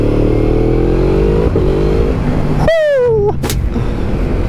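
A loud Yamaha MT-10 motorcycle engine roars steadily, then revs hard in quick rising bursts with sharp whining pitch sweeps before settling back to a rumble.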